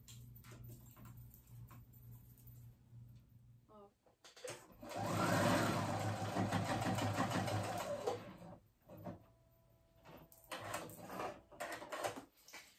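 A sewing machine runs in one sustained burst of a few seconds while stitching a quarter-inch fold on a child's dress, a rapid close mechanical whir between quieter stretches of handling noise.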